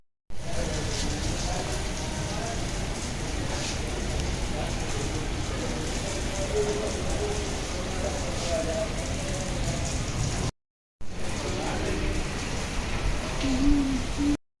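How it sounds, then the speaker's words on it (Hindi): Light rain falling outdoors, a soft steady hiss that continues throughout, broken by one brief gap, with faint scattered tones mixed in underneath. "बारिश भी हो रही थी, तो बाहर का पानी भी भरना था, लेकिन थोड़ा हल्का बरस रहा था"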